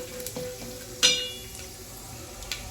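Rice frying in ghee for kheer, with a steady soft sizzle close by, a brief sharp clink partway through, and a faint metallic tap near the end.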